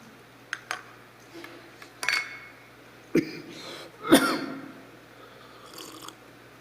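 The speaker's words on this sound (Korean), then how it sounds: "아니, 기분이 좋으면 이렇게 기침이 나와요." A preacher coughs and clears his throat during a Christmas Sunday sermon at a church. Several short, separate bursts are spaced a second or so apart, the strongest in the middle, close and alone against a quiet background.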